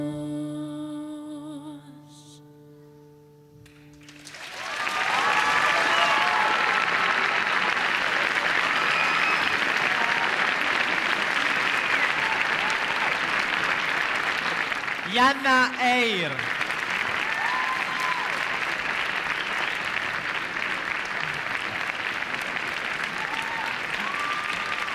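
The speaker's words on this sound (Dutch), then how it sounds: "Volgens mij een heel lang applaus, hè, Jan?" Long, loud, steady applause from a studio audience on a Dutch-Frisian TV show, beginning a few seconds in after a short musical sting and continuing unbroken, with a brief voice over it midway.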